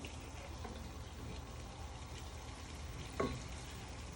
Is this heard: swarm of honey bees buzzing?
no